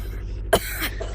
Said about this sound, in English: You coughed in my mouth.